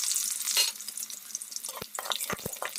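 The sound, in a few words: onions frying in mustard oil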